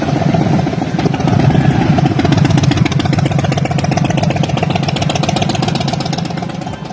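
Motorcycle engines idling at the Koh Samui Bike Week rally in 2022, a steady loud throbbing rumble with a fast even pulse, close by and continuous throughout, with no voices.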